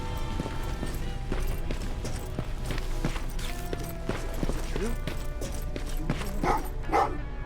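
Dogs bark repeatedly in the video game Terminator: Resistance, with sharp yaps scattered over busy game sounds and music, and a couple of louder barks near the end.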